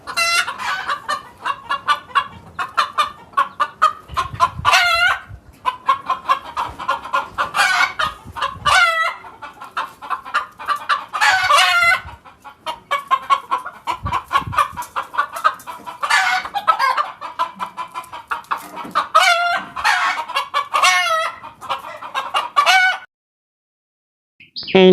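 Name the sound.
chickens clucking in a cartoon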